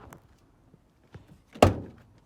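An old door refitted onto a Renault Trafic van under repair, a single solid thunk as it shuts near the middle, preceded by a few faint knocks and small handling sounds in an otherwise quiet space.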